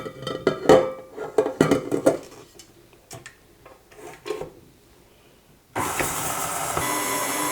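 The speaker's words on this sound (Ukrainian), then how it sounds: "м'яке вершкове масло та коричневий цукор. Збиваємо міксером до пишності." Several clattering knocks and clicks from handling bowl and tools, then an electric mixer switches on near the end and whirs steadily at full volume, beating soft butter with brown sugar for a Christmas cake batter.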